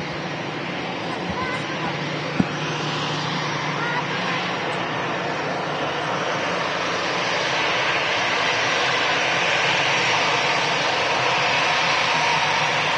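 An EasyJet airliner at Manchester Airport produces a broad, steady jet roar that slowly swells louder over several seconds, heard at a distance with voices faintly underneath.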